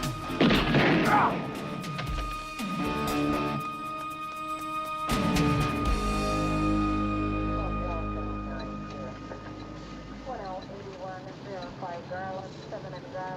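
A gunshot in a TV crime drama, two or three sharp, loud booming cracks early on with a ringing tail, followed by voices talking over a lingering background hum.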